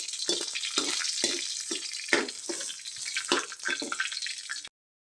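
A spoonful of chana chaat masala is stirred and fried in a pan at an outdoor village camp cookout, with steady sizzling broken by repeated scraping stirs. It carries on close and continuous for about five seconds and then cuts off abruptly.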